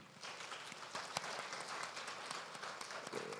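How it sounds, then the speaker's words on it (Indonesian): Dense, even clapping from a conference audience at a tourism forum rolls on without a break, a broad patter with no voices standing out. "Kita kasih tepuk tangan."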